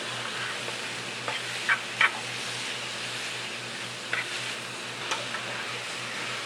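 Onions caramelizing over high heat in a pan give a soft, even sizzle, with a few brief scrapes of stirring spread across it, and no voices.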